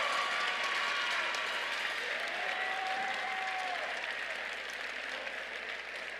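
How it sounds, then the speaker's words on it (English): An audience at a FIRST Robotics Competition district event in Plano, Texas claps in sustained, dense applause, steady and loud throughout, slightly easing toward the end. "Let's give all our mentors a huge round of applause."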